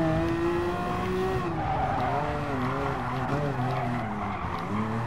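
Race car in Gran Turismo Sport braking hard, its tires squealing in long wavering howls over a steady engine drone, loud and close, with a voice talking over it.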